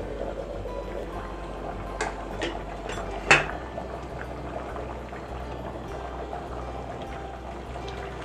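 Rice for pulao simmers in a covered pot, a steady low bubbling hiss with a sharp clink partway through, heard close and without voices.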